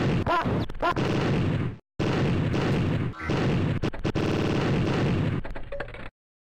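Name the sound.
gunshot sounds from the video game Info Harry II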